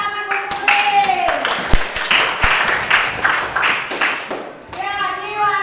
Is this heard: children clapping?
yes